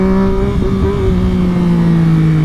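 A motorbike engine revving hard for a wheelie on muddy ground after a mudslide, a loud close roar with wavering pitch that dips and climbs.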